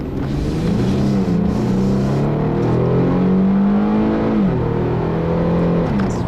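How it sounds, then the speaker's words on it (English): A 2012 Infiniti G37 accelerates hard from inside the cabin, its engine note climbing steadily in a loud, sustained rising whine before a brief dip at a shift and another climb. "It's very fast acceleration."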